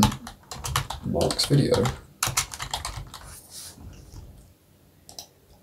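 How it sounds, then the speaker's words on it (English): Computer keyboard typing, with rapid clustered key clicks close by while someone speaks briefly over them. "I'm going to type in"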